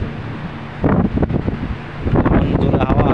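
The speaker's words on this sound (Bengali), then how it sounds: "এমন জোরে হাওয়া আসতেছে।" Strong gusts buffet a microphone on a rooftop, producing a loud rumbling roar that surges in two bursts. Leaves rustle faintly under the wind noise.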